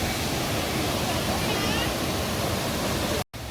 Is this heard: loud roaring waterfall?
yes